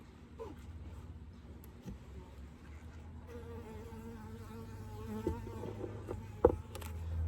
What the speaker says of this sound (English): And there's a fly.